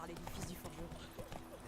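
Horse hooves clip-clopping in the video game The Witcher 3, steady and soft in the background under continuous talk and game sound.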